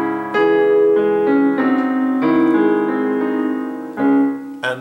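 A piano plays the opening two measures of a song from Over the Garden Wall, starting with a rolled chord and then sustained chords, clear and close, with no voices.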